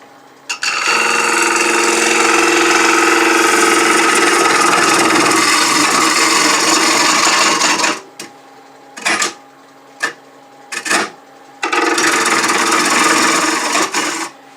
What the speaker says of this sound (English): So I switched to my 1/2 inch bowl gouge. We're going to pick up the cut a little further down and just come down another 3/4 of an inch.